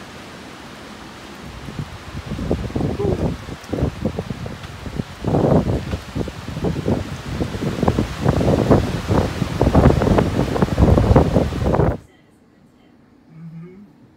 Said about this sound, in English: suddenly became a windy day.